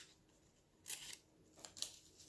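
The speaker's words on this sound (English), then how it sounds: "I'm going to cut off this little strip." Scissors cut a small strip of paper in a quiet room, with two faint, crisp snips about a second apart.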